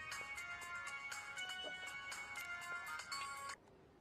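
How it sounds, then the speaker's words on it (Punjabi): A telephone ringtone chimes in a repeating electronic pattern for about three and a half seconds in a Punjabi comedy film scene, then cuts off abruptly, leaving quiet room tone. "ਕਿੰਦਰ ਨੂੰ ਫੋਨ ਲਾ"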